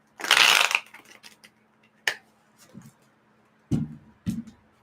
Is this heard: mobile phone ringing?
no